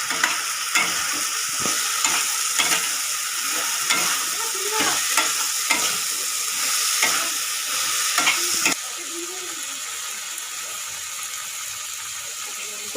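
Fried potatoes and soybean chunks get stirred in a pan of masala, with a close hissing sizzle and a run of rhythmic spatula scrapes and knocks, then the sizzle settles quieter and steadier once stirring stops.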